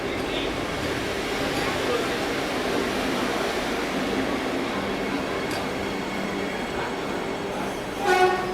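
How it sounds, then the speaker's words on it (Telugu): A Vande Bharat Express, Chennai Central to Narasapur service, rolls into platform 4 at Renigunta Junction railway station, a steady loud rumble of the train filling the platform with a brief brighter burst near the end. "వందే భారత్ ఎక్స్ప్రెస్ మరికొద్ది సేపట్లో 4వ నంబరు ప్లాట్ఫామ్ నకు వచ్చును"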